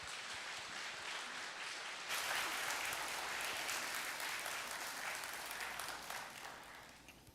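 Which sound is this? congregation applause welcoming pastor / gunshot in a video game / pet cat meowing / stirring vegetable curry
congregation applause welcoming pastor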